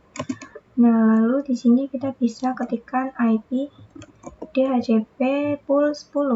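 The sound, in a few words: typing on a computer keyboard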